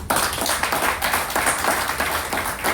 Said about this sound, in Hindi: इनके लिए एक जोरदार ताली होनी चाहिए